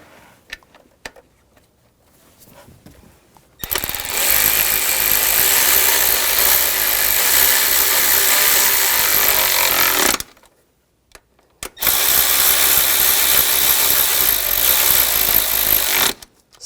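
Power tool driving bracket screws into an idle air control valve on a 2000-2006 BMW X5 3.0L, two loud sustained runs of about six and four seconds separated by a brief pause.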